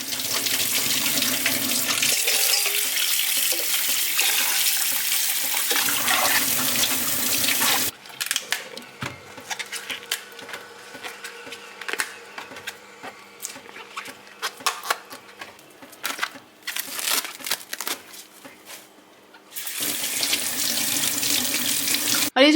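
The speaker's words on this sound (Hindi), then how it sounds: "सारे वेजिटेबल जितने हैं उसको अच्छी तरह से धोती हूँ" Vegetables are rinsed under a running kitchen tap, a loud steady gush of water splashing into the sink with shifting patter as produce is handled, broken by a quieter stretch of intermittent drips and handling before the stream returns.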